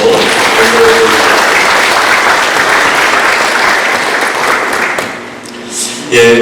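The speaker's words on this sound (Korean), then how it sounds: "다시 한번 우리 감사의 박수로" A large church congregation at a Sunday service in Winnipeg claps together in sustained, loud applause that fades near the end before a voice briefly returns.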